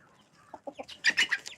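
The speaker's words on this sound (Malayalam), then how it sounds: "തൊപ്പിക്കോഴി ഇതാ" A topknot hen clucking close by, a short run of rising clucks that builds into louder, brighter calls.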